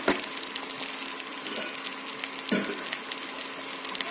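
Boiling hot water added to a sizzling pan while cooking fish curry: a steady frying hiss and crackle with two sharper bursts, the second a loud splash-like surge, and no voices over it.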